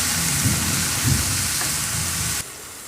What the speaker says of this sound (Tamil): தக்காளி வந்து நல்லா குழையிற வரைக்கும் நம்ம நல்லா அதை வதக்கி எடுத்துக்கலாம்.